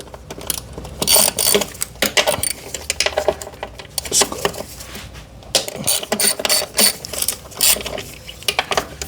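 Close, clicky ratcheting from a hand wrench loosening the four 10 mm throttle body bolts on a 2020 Toyota Avalon, in bursts of quick pawl clicks with brief gaps between them, with no talk.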